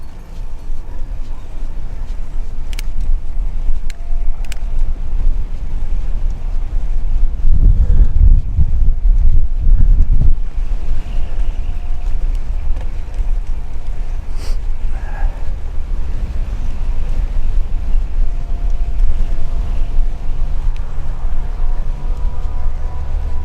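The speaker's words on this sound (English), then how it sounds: "So the wind's blowing against me now, which is fine." Outdoor wind buffets the microphone in low rumbling gusts, steady throughout and swelling heavier in the middle, with faint background sounds underneath.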